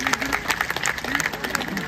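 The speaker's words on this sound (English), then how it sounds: "They're clapping for you." An audience claps for Petey the parrot at a parrot show, a dense patter of applause lasting throughout with voices and bird-like tones mixed in.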